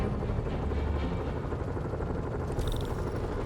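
Helicopters hovering over the city in Marvel's Spider-Man Remastered, a continuous rumbling rotor wash heard at moderate distance with no break, with a short bright whine rising near the end.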